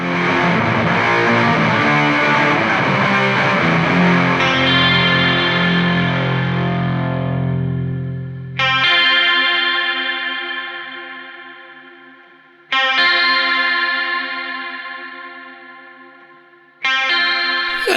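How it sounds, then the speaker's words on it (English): Double-tracked grunge electric guitars run through a wobbly, not-so-sweet chorus pedal, a dense distorted strum that gives way to three loud ringing chords, each struck and left to decay alone. "let's have a listen with the double tracked grunge guitars and the chorus"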